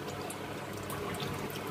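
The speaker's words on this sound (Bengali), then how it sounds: "এটা একটু ধুয়ে নিব" Running water splashes steadily over six cut pieces of hilsa fish head as they are rinsed, a continuous close hiss and trickle with no voices.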